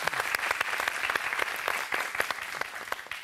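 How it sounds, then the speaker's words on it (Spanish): A television studio audience claps in lively, scattered applause, individual claps standing out across a brief, moderately loud burst. "Muy bien, un aplauso para ella,"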